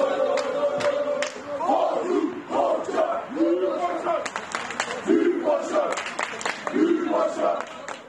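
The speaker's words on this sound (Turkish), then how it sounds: "Taraftarlar Büyük Başkan tezahüratlarıyla Kocaya destek verdi." A group of football fans greeting their club president at a hospital chant a two-word slogan in rhythmic, repeated shouted phrases, with crowd noise and a few claps between the chants.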